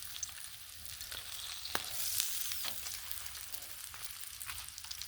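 Bacon sizzling on a Blackstone flat-top griddle, a steady close crackle and hiss with occasional sharper pops, no voices.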